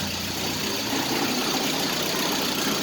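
A small four-cylinder engine with low fuel pressure idles roughly and unevenly, a loud, steady, close rumble with no talking over it.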